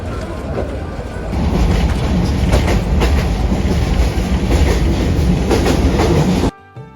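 A passenger train running toward Dhaka in Bangladesh, heard from on board as a loud, steady rumble with rhythmic clickety-clack of wheels over rail joints, continuing for several seconds before cutting off abruptly.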